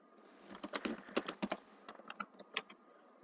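Someone types on a computer keyboard up close, with quick irregular bursts of clicking keystrokes and a short pause midway, and no one speaking.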